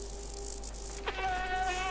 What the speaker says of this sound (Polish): Co za głupia mucha.